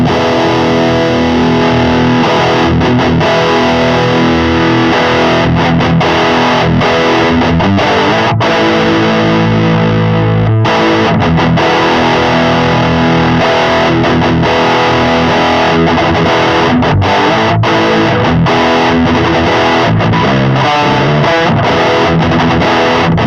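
Electric guitar run through a Boss Metal Zone pedal into a Fortin Grind, churning heavily distorted riffs and chugging palm-muted chords that play loud and dense for a long stretch, with no talking.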